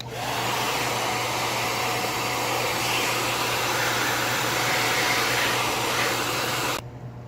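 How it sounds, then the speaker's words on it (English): A hair dryer blasts dust out of a desktop computer case, a loud, continuous roaring whoosh with a steady motor hum underneath, cutting off sharply near the end. "I'm gonna try the hair dryer"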